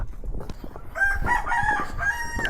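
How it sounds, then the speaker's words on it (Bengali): Rooster crows and hens cluck in a hill village near the Myanmar border, where homes line the slopes; the crowing rises clearly after a second, mid-distance over light outdoor ambience. "ও মুরগির ডাক"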